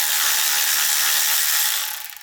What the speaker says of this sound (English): we're gonna take the last couple of pan bolts out.